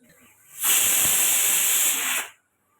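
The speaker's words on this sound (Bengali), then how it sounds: "এখানে আমি তিনটে সিটি দিয়ে নিচ্ছি প্রেশার কুকারের" A pressure cooker on an induction cooktop lets out a loud, steady whistle of escaping steam lasting under two seconds, starting abruptly and cutting off cleanly.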